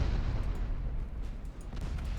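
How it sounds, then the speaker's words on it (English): A torpedo striking a warship in the naval battle game Ultimate Admiral Dreadnoughts, heard as a sustained low rumbling explosion that rolls on steadily for the whole stretch without any voices. "Another torpedo hit."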